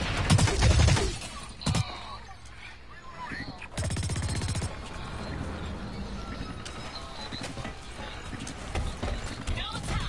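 Gunfire in a shooter video game: a few sharp bursts stand out early, then a steadier rattle of game sounds follows while a player talks over it.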